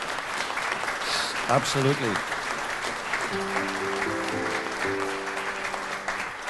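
Audience applause at an awards induction ceremony, steady clapping across the whole stretch, with a brief spoken word and some musical tones rising underneath.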